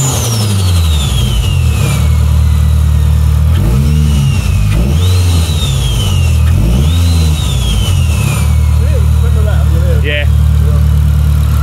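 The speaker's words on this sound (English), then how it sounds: "Listen to this turbo." A 500 bhp Audi TT fitted with a Garrett G25-660 big turbo is revved hard several times, up close and loud, each rev climbing and falling back while a high turbo whistle rises and fades above the engine note.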